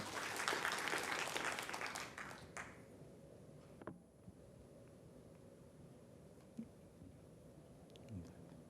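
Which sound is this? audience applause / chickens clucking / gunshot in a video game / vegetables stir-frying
audience applause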